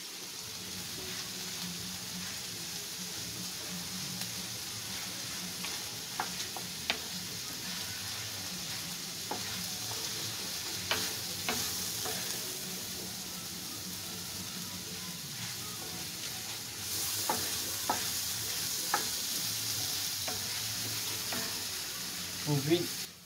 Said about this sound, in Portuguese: Agora eu vou pôr a cebola